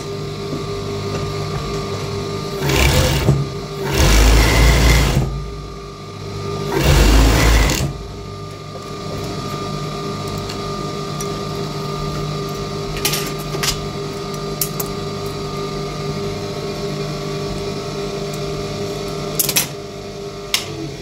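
A cover stitch sewing machine stitching a cotton boxer runs in short whirring bursts, loud and close, over a steady low hum, then quiet handling ticks follow.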